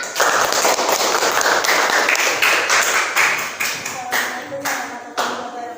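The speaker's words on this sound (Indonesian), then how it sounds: "Tepuk tangannya mana anak-anak?" Children clapping together in a classroom, loud quick claps that start thick and overlapping, then thin into separate slaps and fade out, with a few voices faintly underneath.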